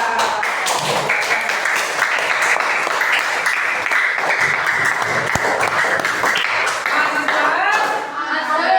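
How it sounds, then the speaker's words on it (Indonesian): A sixth-grade class of students clapping their hands together, a dense, sustained round of applause filling the room, loud and steady, with voices mixed in. "Oke, tepuk tangan."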